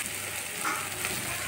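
A vegetable curry with coriander leaves stirred in a pan, giving a brief, even sizzle with soft stirring underneath.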